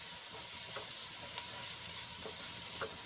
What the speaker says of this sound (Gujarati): ડુંગળીને આપણે ગુલાબી રંગની થાય ત્યાં સુધી સાંતળી લેવાની છે